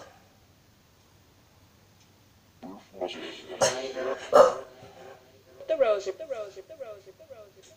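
Dog barking indoors in a few sharp barks and yips mixed with someone talking nearby, moderately loud against a quiet room.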